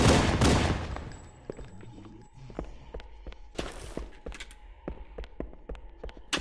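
Bursts of assault rifle fire from Halo: Combat Evolved ring out in quick repeated volleys, a loud opening barrage followed by scattered sharp shots and clatter at steady intervals, with no voices.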